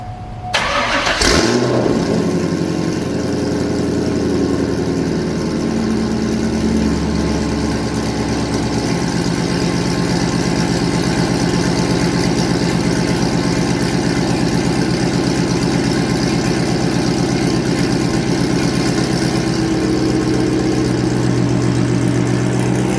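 A Chevrolet C5 Corvette cold-starts with a brief cranking burst and a loud catch, then settles into a steady, rumbling idle held close and unchanging for the rest of the stretch.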